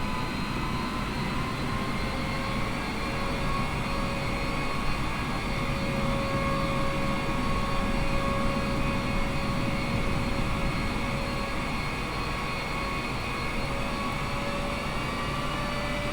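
A steady, distant roar of jet aircraft engines at busy JFK airport in New York, with a faint sustained whine that holds evenly throughout and no talk.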